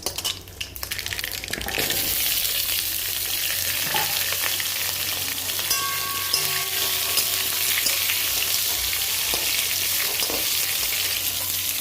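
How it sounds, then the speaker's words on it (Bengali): Loud, continuous sizzling of mango pieces frying in mustard oil, with occasional stirring clinks over the steady crackle. "আমটা ভাজা হয়ে গেছে"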